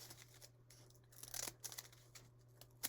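Scissors snipping through paper in a second-grade classroom craft, a few quiet, irregular cuts and paper rustles, fairly close and faint, with no talking.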